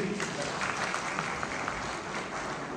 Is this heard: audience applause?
yes